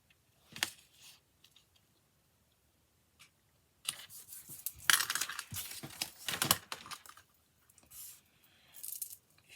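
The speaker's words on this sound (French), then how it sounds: "Il fait du bruit mon bracelet" A bracelet clinking and rattling during hands-on collage crafting, with scattered metallic taps and bursts of jangling mixed with paper handling, close and intermittent, without talk.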